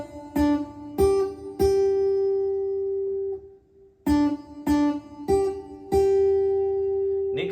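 Clean guitar plucks the riff, played without a capo in two repeated phrases of three sustained notes each, ringing clearly and alone with a short pause between phrases.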